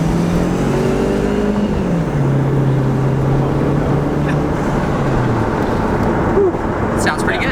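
An old car driving along a road, its engine droning steadily with shifting pitch as it pulls and cruises, loud and close throughout with road and wind rumble.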